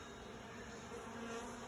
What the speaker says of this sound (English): The bees are gathering around the vacuum